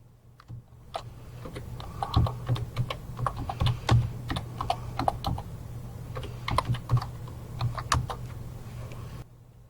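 A computer keyboard is typed on to enter a search term, with irregular clicking keystrokes in quick bursts over a low steady hum, close and clear, and no voices.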